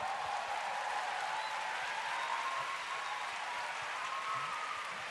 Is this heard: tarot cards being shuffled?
no